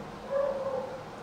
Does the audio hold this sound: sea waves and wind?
no